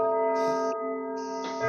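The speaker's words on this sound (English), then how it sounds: "This is Westminster chimes on my grandfather clock." A grandfather clock plays the Westminster chimes, sustained bell tones ringing in steady succession and overlapping as each strike decays, close and clear with no voices.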